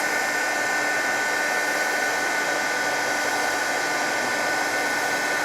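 A heat tool blows steadily as it melts gold embossing powder on a layered stencil craft project, giving one continuous, fairly loud whirring rush of air from start to end with no talking.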